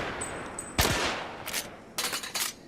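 Luger pistol fire in the video game The Order: 1886, three sharp loud gunshots at irregular spacing, the first strongest, each followed by a short ringing tail over a quiet game-ambience background.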